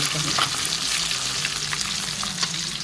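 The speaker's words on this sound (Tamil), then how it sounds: "மீதி உள்ள மசாலாவில் முட்டை வறுத்தாச்சு." Boiled eggs fry in leftover masala with a dense, continuous close sizzle, broken by occasional stirring scrapes and crackles.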